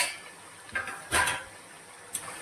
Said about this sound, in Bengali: এখন ঢাকনাটা সরিয়ে একটু দেখি।